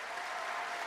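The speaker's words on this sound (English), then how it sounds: "So a round of applause for Music Counts" An audience at a Juno songwriters' circle applauding Music Counts, a steady, dense wash of clapping heard briefly and evenly throughout.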